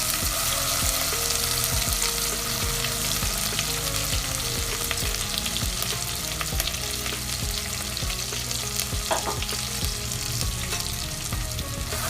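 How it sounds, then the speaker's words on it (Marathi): Ground masala for a village-style chicken gravy fries in a pan with a steady, close sizzle, punctuated by repeated scraping and stirring clicks throughout. "मसाल्याला व्यवस्थित फ्राय करून घेऊया"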